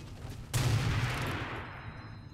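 A sudden sharp blast of gunfire in the arena shooter Unreal Tournament III, fired at the player, followed by a dense rumbling burst that slowly fades over a couple of seconds, loud and up front.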